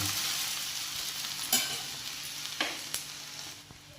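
Urad dal dosa (minapattu) batter frying on a hot pan gives a steady, close sizzle that fades gradually, with a few sharp crackles and scraping taps.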